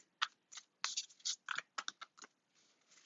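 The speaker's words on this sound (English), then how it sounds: "I'm going to stop shuffling" Crisp, papery riffling bursts come in quick uneven flurries as tarot cards are shuffled close by, with brief pauses between them and no talking.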